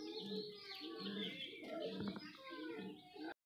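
Pigeons in a keeper's collection coo softly in repeated low, throaty phrases, faint and close, with scattered small chirps and rustling throughout.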